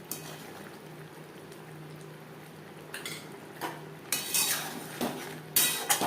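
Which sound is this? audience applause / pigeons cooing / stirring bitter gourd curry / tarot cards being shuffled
stirring bitter gourd curry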